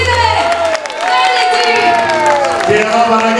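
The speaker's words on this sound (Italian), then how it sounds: "Come sa fare il Veneto, un applauso bello!" A large open-air concert crowd in Castelfranco Veneto cheers and shouts loudly, a dense, sustained roar of many voices with some applause mixed in and a brief dip before it swells again.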